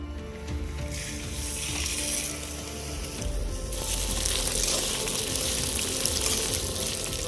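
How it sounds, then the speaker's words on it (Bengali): Moong dal frying in hot oil with bay leaf, dried red chili and cumin, a steady broad sizzle that grows louder midway, with faint stirring and no talk. "এবার দিয়ে দেবো মুগ ডাল, ভাজা করে নেব।"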